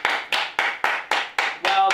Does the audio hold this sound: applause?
yes